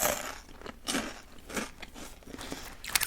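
Close, crisp crunching and chewing of an Irish salt and vinegar snack, a softish crunch repeating in irregular bites with no talk.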